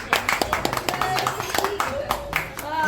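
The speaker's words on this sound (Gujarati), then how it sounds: "તાળી પાડજો, તાળી પાડો" At a family anniversary celebration, several people clap their hands in quick, uneven bursts close by, mixed with chatter and voices.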